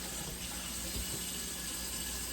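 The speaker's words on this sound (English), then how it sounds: "So let me just give my hands a quick wash here." Hands being washed under a running kitchen tap: a steady, close rush of water that flows without a break and with no voices over it.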